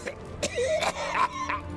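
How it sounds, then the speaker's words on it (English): Several people coughing and clearing their throats in a town scene of the video game The Witcher 3, short rough bursts scattered over faint background ambience, with a raspy moaning tone in between. "Why is everybody coughing here?"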